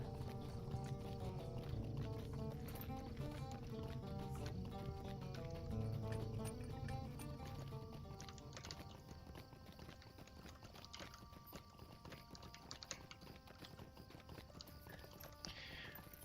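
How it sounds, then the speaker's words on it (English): Horse hooves clip-clop steadily in the LOTRO video game as a mount travels down a long road, the rhythmic footfalls sitting under a continuous bed of game music throughout. "Good thing you got a horse, Carradine"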